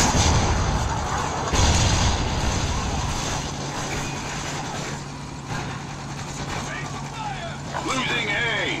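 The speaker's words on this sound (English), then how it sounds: "Friendly Trinity rocket inbound." Trinity rocket strike in an online multiplayer shooter on PlayStation 4: a heavy rumbling barrage with booming impacts and a low engine-like drone throughout, with game voice chatter over it.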